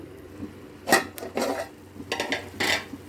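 Boiled jackfruit seeds tipped into a pot of curry with tomatoes, giving a few scraping clinks and soft rustling clatters of utensil against the pot, spread over a few seconds, no voices.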